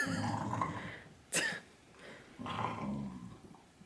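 Low, rumbling dog growls run through most of a short stretch near the mic, broken by a sharp bark-like burst in the middle, while a second dog stays quiet.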